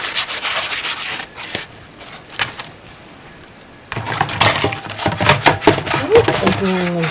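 A Scrub Daddy sponge rubs hard against a grimy surface in rough, rasping strokes. A quieter patch of scrubbing comes first, then louder and denser scrubbing in short bursts, with a voice talking in places.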